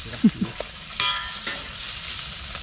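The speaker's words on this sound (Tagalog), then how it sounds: "Luluto ulit si Kaluko doon ng prito." A few sharp clinks and stirring scrapes in a pan over a soft background sizzle, brief and close, with no talking.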